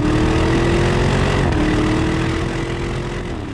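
A Porsche Cayenne Turbo GT with a titanium exhaust and no central silencer drones loudly and steadily up close, its engine note holding a constant pitch with a slight dip midway, with no voices over it.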